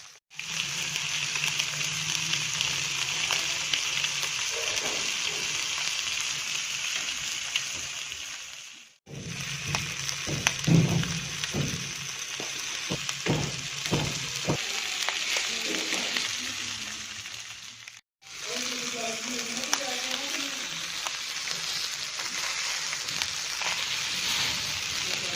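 Delicate dolla fish frying on a hot tawa over a low flame, a steady close-up sizzle that runs for several seconds at a time, broken by brief pauses and scattered crackles and pops as the pieces are moved.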